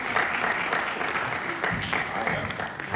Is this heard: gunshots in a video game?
no